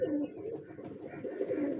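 Breeder pigeons in a loft of about fifty birds coo softly and continuously, low rolling calls overlapping close by, with no talking.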